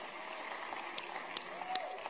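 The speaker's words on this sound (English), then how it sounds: "Let's give them a round of applause" Light applause from a church congregation during a worship service, with scattered claps popping over a soft, steady patter.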